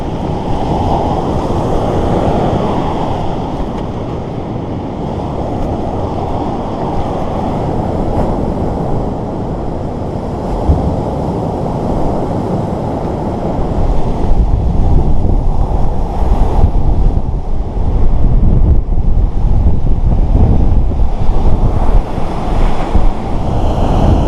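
Steady autumn wind roars over a Baltic shore alongside rolling surf, a continuous rushing noise that grows slightly stronger partway through. No voices.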